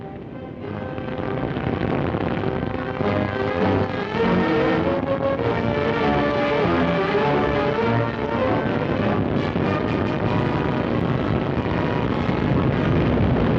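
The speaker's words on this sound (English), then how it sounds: "After rising but a few feet, the three-stage 72-foot rocket loses its thrust" A three-stage 72-foot rocket fires at launch from Cape Canaveral, its engine thrust a loud, steady, broadband roar that holds without a break for the whole stretch, with no voices over it.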